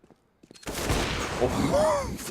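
Gunfire in a CS:GO professional match on Dust2 bursts out after a near-silent start, a dense rapid fusillade that continues steadily to the end, with a metallic ring near the finish.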